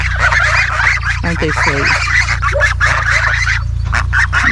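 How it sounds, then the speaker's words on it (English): Young goslings peep and honk in a garden in a busy, continuous chorus of overlapping calls, close and loud over a steady low hum, while someone speaks softly to them. "Goofy little geese."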